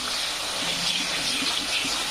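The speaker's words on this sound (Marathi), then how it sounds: "तर छानपैकी असं फ्राय होऊ द्यायचं" The onion and spice base for Kolhapuri mutton curry frying in a pan, a steady close sizzling hiss with small crackles throughout.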